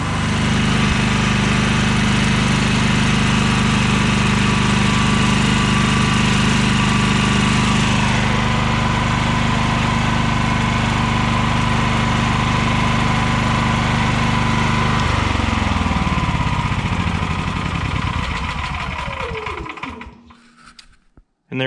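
An Energizer eZV7500 portable generator engine runs loud and steady, close by, with a constant droning hum and a slight change partway through, then winds down and stops near the end.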